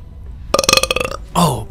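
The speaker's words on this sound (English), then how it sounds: "Oh, here comes another burp." A loud, close burp rattles out in a rapid stuttering series of pulses, followed by a brief vocal sound.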